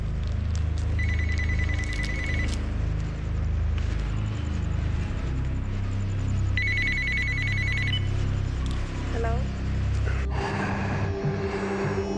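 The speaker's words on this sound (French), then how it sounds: "Répondez au téléphone s'il sonne." An office telephone bell rings in repeated bursts over a busy background, loud and close, in a hidden-camera prank setting.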